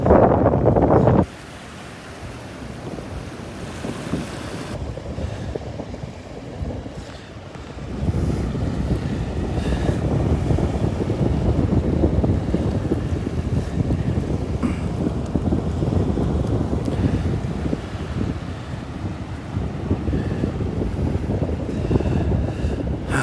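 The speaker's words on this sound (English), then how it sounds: "That wind, hear that wind?" Steady wind gusting across the open shore at Delnor-Wiggins beach, a continuous loud low rumble of wind buffeting the microphone that swells after a quieter stretch and stays strong throughout, with no talking.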